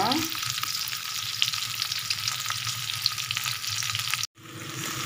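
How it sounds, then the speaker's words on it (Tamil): Onions, spices and tamarind sauté in a pan for mint chutney, a steady close sizzle with faint stirring scrapes that continues throughout, briefly dropping out near the end. "நல்லா வதங்கிக்கோங்க இப்போ பார்த்தீங்கன்னா நல்லா வதங்கிடுச்சு"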